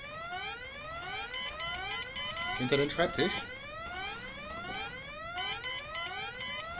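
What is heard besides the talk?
alarm siren in the video game Goodbye Deponia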